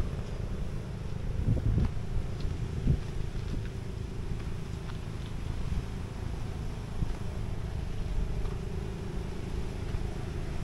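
Wind blows in a steady low rumble across the microphone outdoors in Capiz province, Philippines, with a faint distant engine-like drone underneath and a couple of soft knocks.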